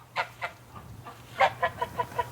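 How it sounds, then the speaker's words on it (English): Ducks quack outdoors on an early winter morning, a run of about eight loud, nasal calls coming close together, with one raspier call in the middle, over a low steady hum. "these guys were out here quacking"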